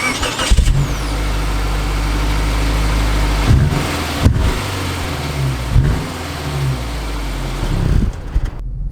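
A 2019 Subaru Outback SUV drives along at steady speed, its mid-pitched engine hum and road noise continuous, with a few brief revving surges and bumps toward the end.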